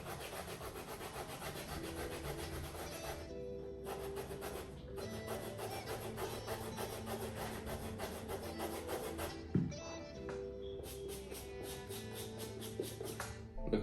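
A small plain eraser rubs back and forth on Chanel sneakers for dry cleaning, a close, continuous scratchy scrubbing in steady strokes with brief pauses and a light knock near the end.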